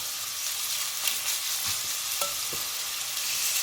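Beef pieces sizzle as they brown in hot oil in a stew pot, cooked in batches; a steady, close, dense frying hiss runs throughout with a few soft clicks of stirring.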